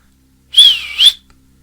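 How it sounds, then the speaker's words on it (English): A single clear, high whistle that dips and rises again, lasting about half a second, loud and close against silence. "Once in position, he whistled at the creature."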